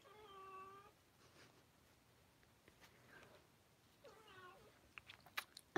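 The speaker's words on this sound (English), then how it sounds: "Sphinx, so she's a hairless cat." A hairless Sphynx cat meows in a drawn-out, clear call near the start, then gives a shorter second meow a few seconds later, with faint clicks and rustles between and a sharp knock at the end.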